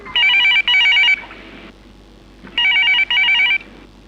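A telephone bell rings in two double bursts separated by a short pause, loud and close, with no talking.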